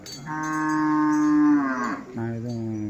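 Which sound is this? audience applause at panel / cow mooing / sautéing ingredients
cow mooing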